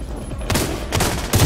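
Gunfire aimed at a boss enemy in The Division 2, a dense crackling fusillade of rapid shots in close bursts, loud and continuous with heavier punches near the end.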